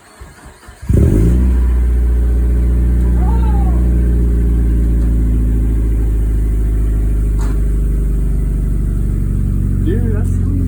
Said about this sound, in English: Dude, that sounds nice, that startup thing.